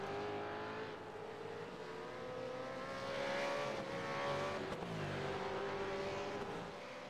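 A V8 race car in the Euro V8 Supercar Series at Bathurst, simulated in the Automobilista racing game, revs and shifts through gears, its engine note rising and falling steadily and fairly loudly, with no talk over it.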